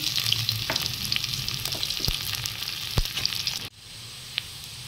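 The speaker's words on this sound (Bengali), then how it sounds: "তেলের মধ্যে জিরে ফোড়ন দেব, একটা বড় সাইজের পেঁয়াজ দিয়ে দেব" Onion sizzles in hot oil with cumin seeds for a Bengali fish curry, a steady close frying crackle with a few sharp stirring clicks. It cuts off abruptly near the end, leaving faint background hiss.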